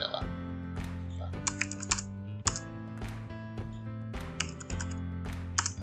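Quick, uneven taps on a computer keyboard, close and crisp, in short clusters over a faint background hum, with someone speaking intermittently throughout.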